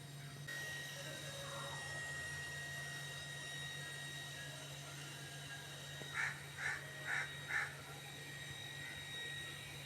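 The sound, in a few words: crow cawing near its nest in a tree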